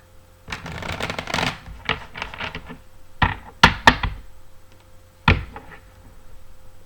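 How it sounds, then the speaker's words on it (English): Tarot cards being shuffled in several quick riffling bursts, crisp and close, separated by short pauses and soft taps. "I'm going to shuffle my clarifiers a few times"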